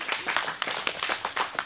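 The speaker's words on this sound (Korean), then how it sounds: "박수 한번 해주세요." A rally audience claps in quick, scattered bursts, a short stretch of brisk applause heard fairly faintly with no voices.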